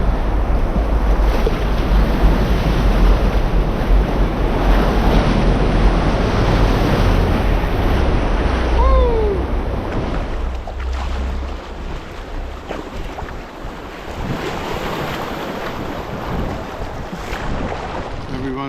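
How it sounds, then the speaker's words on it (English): River rapids in the Yukon wilderness rush loudly around a canoe, a dense continuous roar of churning water with wind buffeting the microphone, easing slightly partway through. "We got another powerful rapid here"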